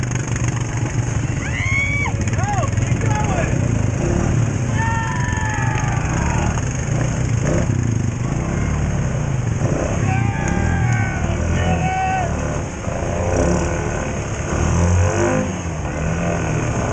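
An off-road vehicle engine revs hard under throttle while its wheels dig in, a loud sustained roar with rising whine pitch changes that stays up front, partly joined by voices.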